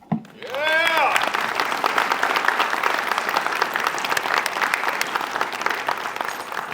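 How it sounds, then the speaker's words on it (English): Sustained applause fills a hall at a service dog organization's 15th anniversary event, welcoming a veteran and his service dog to the stage. A short warbling tone sounds at the start, then clapping runs steady throughout. "please give up great applause for Phil and Norman."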